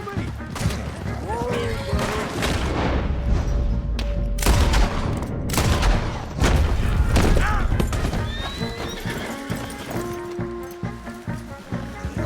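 Rapid gunfire crackles through a Red Dead Redemption 2 shootout, mixed with horses whinnying and hooves clattering, while voices shout over the loud, busy scene.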